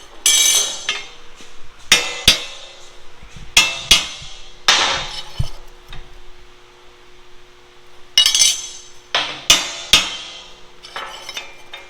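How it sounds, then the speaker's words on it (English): A hammer strikes metal security bars during fabrication, sharp ringing blows in irregular clusters, some single and some in quick pairs, with quiet pauses between and a faint steady hum underneath. "Let me get a hammer."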